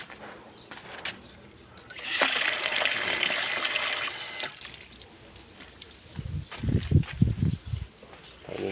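Water gushing from a tap fed by a small motor pump drawing from a 20-foot-deep source, a steady rushing flow that fades, followed by clunking knocks and splashes.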